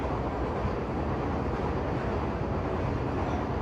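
Steady, loud rumble of a Sealdah–Krishnanagar AC local train running on the tracks past Jalalkhali halt, a continuous broadband roar with rattling underneath and no break.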